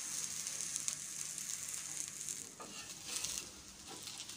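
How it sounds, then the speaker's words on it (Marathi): Mutton shami kebabs shallow-fry in a little oil on a griddle over medium flame, giving a close, steady crackling sizzle with soft spattering pops that rise and ease slightly, and no voices. "सर्व कबाब छान तव्यावर शॅलो फ्राय करून घेऊया"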